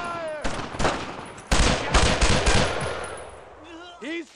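Covering fire in the World War II shooter Brothers in Arms: rapid bursts of machine-gun fire crackle loud and close, interleaved with short shouted voices and a final burst.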